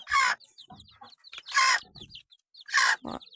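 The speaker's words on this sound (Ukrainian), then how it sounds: "Ось вивела курочка, курчаток." Three loud, sharp bursts of bantam hen vocalizing at a steady spacing, with soft peeping chicks and low clucks in between, close by.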